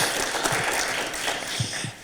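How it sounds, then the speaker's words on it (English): A crowd applauds steadily at a Democratic caucus gathering, a dense wash of clapping at moderate loudness with a few louder claps standing out. "A round of applause."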